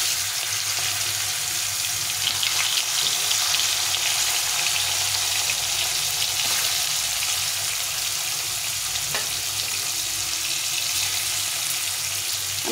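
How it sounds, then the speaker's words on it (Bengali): Pieces of snakehead fish fry in a hot wok, giving a steady, loud, close-up sizzle with a bright crackling hiss that carries on without a break throughout. "এই প্রথমে মাছগুলোকে ভেজে দিই"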